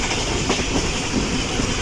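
Awam Express passenger train racing at about 110 km/h near Jungshahi in extreme heat, a steady loud rumble of wheels on rail with a faint rhythmic clickety-clack running throughout, no voices.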